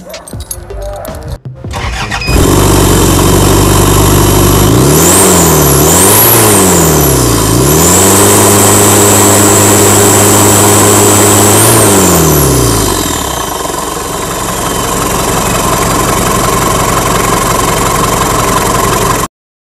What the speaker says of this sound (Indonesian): ayo coba kita dengar suara mesinnya ya